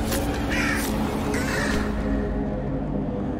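Crows cawing in the video game Little Misfortune, several harsh caws in bursts near the start and middle over a dense, steady layer of ambient game noise, with no one talking.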